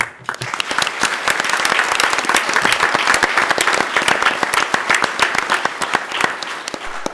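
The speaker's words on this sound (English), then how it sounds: "should get another round of applause" Another round of applause from the audience at a community involvement award presentation: loud, sustained clapping with many distinct hand claps throughout, building briefly at the start and holding steady.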